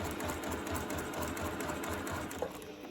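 A sewing machine runs continuously and close while stitching a quilt block, a steady rapid mechanical chatter that ends with a small click.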